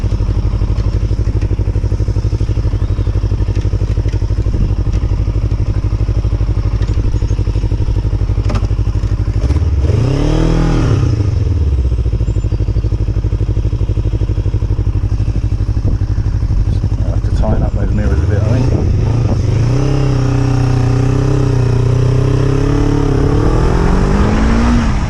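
A Kawasaki ER5 motorcycle idles loudly up close with a steady burble, then is revved twice in rising-and-falling sweeps, the second held longer before dropping back to idle, with some wind and clatter alongside.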